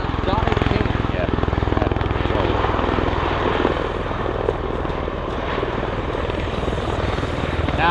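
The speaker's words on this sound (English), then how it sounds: "Now going solely to the helicopter mode as he approaches show center." An MV-22 Osprey tiltrotor flying in helicopter mode at the Oregon Airshow, a loud, dense rotor roar and engine drone filling the scene, with an announcer's voice running under it.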